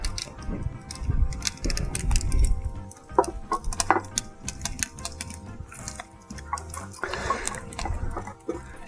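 Pieces of 2x4 wood are shifted around in a fire in a Solo Stove Bonfire, giving close, irregular knocks, clatters and crackles over a steady low rumble of flame.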